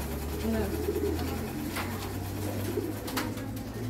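Pigeons coo softly in a low, steady murmur at some distance, partly under people chatting nearby.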